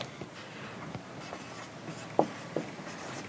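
Writing on a board during a math lesson on polynomials: faint, soft scratching strokes with a couple of sharper taps, quiet and close, alone without talk.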